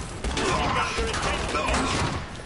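Video game gunfire rattles in quick successive shots over busy background game noise, a short dense burst heard close and loud.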